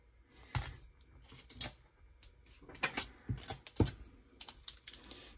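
A knife slices and picks at packing tape on a mail package of football cards, making sharp scattered ticks and scraping bursts close by with quiet gaps between them, and no one speaks.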